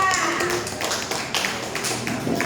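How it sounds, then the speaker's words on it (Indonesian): Applause from a class audience for a student group in a classroom, steady dense clapping lasting throughout at moderate loudness. "aplaus untuk kelompok 3"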